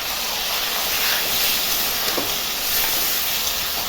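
A continuous, loud hiss and sizzle rises as ginger, cumin and chilli paste goes into a pan of frying potatoes and onions. The sound is close and steady, with no talk.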